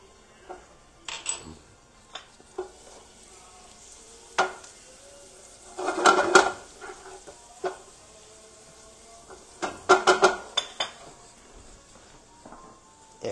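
Garlic hitting hot oil in a pan, sizzling softly with bursts of louder frying and stirring around the middle and near the end, plus light clinks of utensils against the pan.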